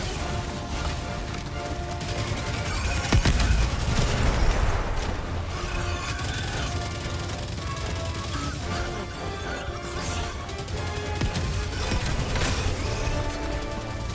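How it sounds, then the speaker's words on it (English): Enemy artillery and gunfire in the video game Helldivers 2 make a dense, continuous barrage of crashes and rattling shots, with a heavy impact burst near the middle, loud and chaotic throughout. "Warning, you are in range of enemy artillery."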